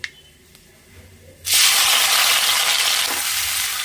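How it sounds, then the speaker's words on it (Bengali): Black cumin seeds and onion dropped into hot leftover fish-frying oil, a sudden loud burst of sizzling after a quiet start that then holds as a steady, dense hiss. "এবার মাছ ভাজার তেলেই আমি কালো জিরে ফোড়ন দিয়ে দেবো।"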